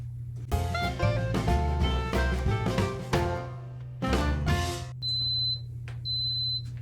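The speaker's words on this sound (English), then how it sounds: "we're going to wait until it beeps at us" A heat press warming up for glitter heat-transfer vinyl gives electronic beeps amid a busy, loud melodic background, then sounds two steady high-pitched tones near the end, each lasting about a second.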